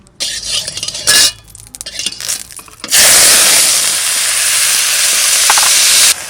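Bottle gourd greens hit hot mustard oil in a pan, with some clattering stirring and utensil noise first, then a loud, broad sizzling hiss that holds steady close by.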